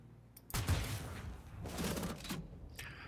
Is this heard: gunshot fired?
yes